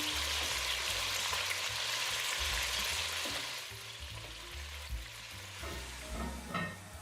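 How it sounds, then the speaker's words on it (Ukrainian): Steady sizzling and crackling of ham frying in a hot pan, loud and close, easing slightly partway through with occasional soft clinks. "перевертаю, обсмажую з усіх сторін і викладаю шинку"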